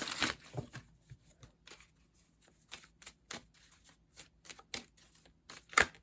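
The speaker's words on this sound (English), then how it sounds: "I'm going to pull a Spirit Animal Oracle card for you for this row." Spirit Animal Oracle cards are shuffled by hand in short, uneven riffling bursts with quick papery flicks and taps, close by and fairly quiet, without any talking.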